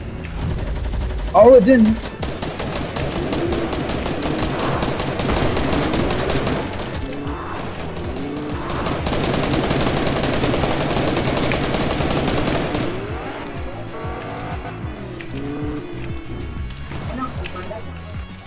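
Gunfire in a Fortnite duos match, repeated shots and bursts mixed with movement and game effects, with a person talking over the action.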